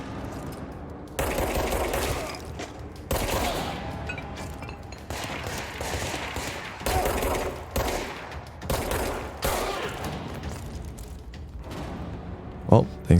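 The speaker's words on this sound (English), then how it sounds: "someone is shooting" Gunfire rattles in the video game Control, with sustained bursts of automatic fire and heavy thumping shots coming in several waves, loud and dense, with a voice talking faintly underneath.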